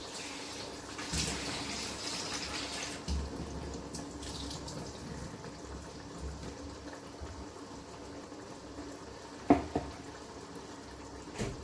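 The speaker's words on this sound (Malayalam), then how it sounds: "തിളയ്ക്കുന്നുണ്ട്." Water boils in a pot for a fish-head curry with a steady rushing, bubbling hiss that continues throughout, interrupted by a single brief clink near the end.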